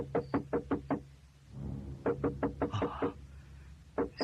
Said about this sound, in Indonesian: Siapa lagi yang mengetuk pintu tengah malam begini?